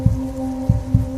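Heartbeat sound effect of deep, close thumps over a steady low hum, in an irregular lub-dub rhythm across three beats, loud and alone.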